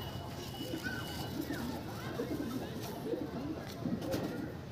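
A Matras pigeon coos in soft, low, repeated bubbling calls over a hissy background, while someone talks nearby.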